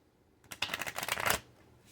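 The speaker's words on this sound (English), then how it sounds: "Let me just shuffle one last time, and then I'll pick 3 cards." A deck of tarot cards is shuffled once, a quick, close, crisp riffle of flapping cards lasting under a second and followed by quiet.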